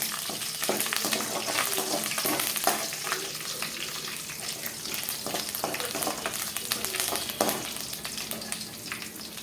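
Dried red chillies frying in a pan for a vallarai keerai thuvaiyal, making a dense, continuous crackling sizzle punctuated by repeated stirring scrapes, fairly close and without talk.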